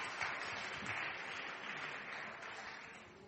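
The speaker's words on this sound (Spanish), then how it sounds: "Un aplauso para ellos." Audience applause fills a hall after a talk, a soft, dense patter of clapping hands that holds steady and then gradually fades.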